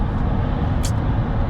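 Steady, dense road and tire rumble fills the Kia EV6 GT cabin with windows up, a continuous low roar with a brief hiss midway as outside traffic passes.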